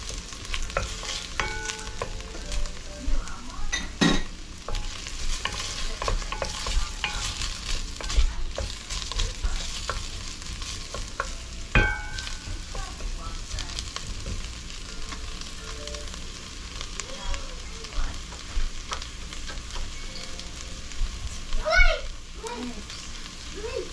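Onions and ginger sautéing in a pan, a steady close sizzle with spoon stirring and scraping, occasional clinks and a faint voice in the background.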